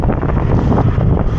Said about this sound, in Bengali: ও ভীষণ হাওয়া দিচ্ছে